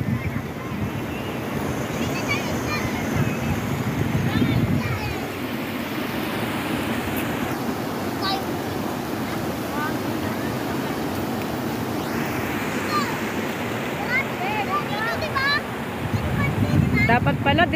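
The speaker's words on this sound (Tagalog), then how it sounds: "Lakas ng agos" A strong stream current at a creek in Laguna rushes in a steady, broadband roar close to the microphone, with wind buffeting and occasional voices talking under the flow.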